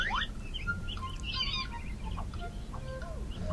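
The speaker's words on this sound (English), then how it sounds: "we have a bird here which is trapped underneath the rock" A small bird trapped beneath a rock chirps and tweets in short bursts throughout, fairly close, over a steady low background rumble.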